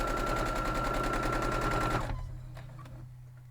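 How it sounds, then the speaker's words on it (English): Sewing machine stitching up the sides of a 12 inch triangles-and-stripes quilt block, a rapid even needle rattle for about two seconds that then stops, leaving quiet room tone. "we are going to sew up these two sides"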